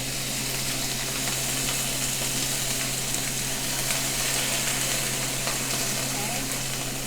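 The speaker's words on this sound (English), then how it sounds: "So I'm gonna pour a little vinegar." Vinegar poured over peppers, onion and carrot frying in hot oil for Jamaican escovitch gives a steady, even sizzle that holds without a break, close and alone.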